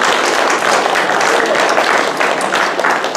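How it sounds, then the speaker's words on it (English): Audience applause in a room during a school assembly at an advanced learning center, a loud, dense burst of clapping that holds steady for a few seconds. "Round of applause."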